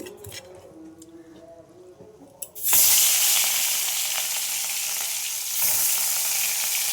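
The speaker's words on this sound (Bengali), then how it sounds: "মাছগুলো ভেজে নেব।" Pieces of rohu fish rubbed with salt and turmeric hit hot oil in a kadai: after a few quiet kitchen clinks, a sudden loud hissing sizzle erupts close by and carries on steadily, swelling again near the end, with no talk.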